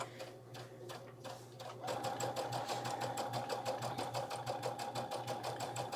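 Acclaim sewing machine running gathering stitches on fabric for an Aloha dress, a fast steady mechanical whir with rapid even needle beats, starting after a brief quieter moment and continuing up close.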